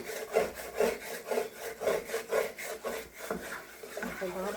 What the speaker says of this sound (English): Just scraping them crumbs up.